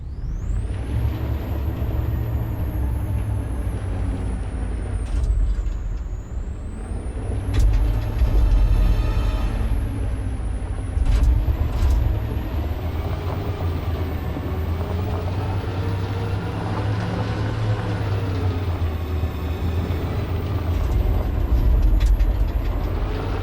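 A truck's heavy engine rumbles and revs in Detroit: Become Human, with loud hissing bursts of air brakes and metallic clanks cutting in repeatedly over a continuous low drone.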